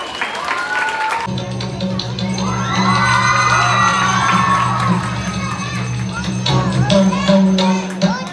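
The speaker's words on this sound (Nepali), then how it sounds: "सबैले जोरदार ताली दिनुहोला।" Audience at a stage event cheering, shouting and applauding loudly as a dancer is called up to perform a Vajrayogini dance, with children's shouts and whoops over a sustained roar and a voice over it.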